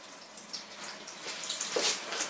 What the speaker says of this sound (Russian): И мне посоветовали налить немножко водички.